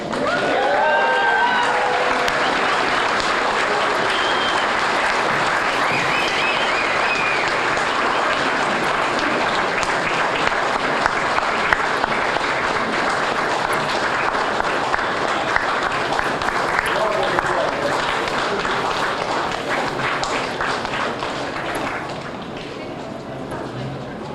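A crowd applauds at a political endorsement event for a state senate candidate and Governor Nikki Haley, loud sustained clapping and cheering for over twenty seconds with scattered voices mixed in.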